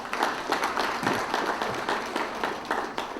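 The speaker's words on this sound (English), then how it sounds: "Give him a round of applause again." Audience applause at an anniversary awards banquet, a soft, even wash of many hands clapping at a distance with a few louder claps near the end.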